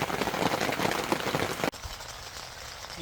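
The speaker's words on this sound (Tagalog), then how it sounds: "yung patak ng ulan, nakaka-relax" Steady rain patters on a surface during a camping trip in bad weather in Canada, a dense close hiss that suddenly drops to a softer, thinner patter.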